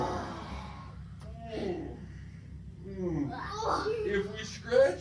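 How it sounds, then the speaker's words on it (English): A group of children yawn together in drawn-out, breathy, voiced sighs that rise and fall during a picture-book story time, soft at first and building louder toward the end. "Everybody yawn."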